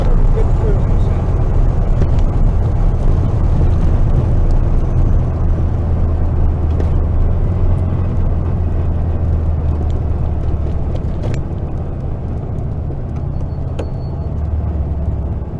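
A 1956 VW Bug with a swapped engine cruising on the road, a steady low engine drone and road rumble filling the cabin, with voices talking over it at times.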